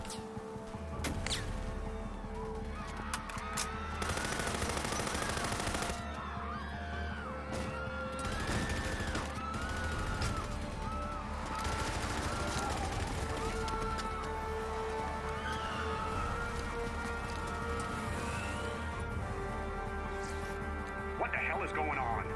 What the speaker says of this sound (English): Gunshots reported in the plaza.